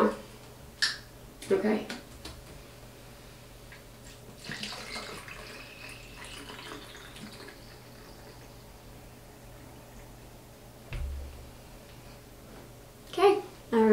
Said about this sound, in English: Alright, I'm pouring in the water now.